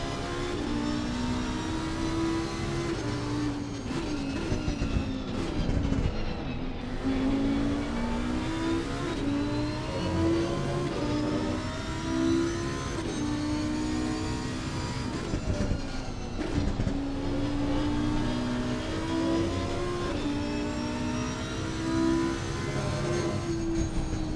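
Porsche and Lamborghini race cars screaming around the Barcelona circuit in a sim racing game, heard on board as a continuous loud engine wail that rises through gears, drops at shifts and braking, and climbs again.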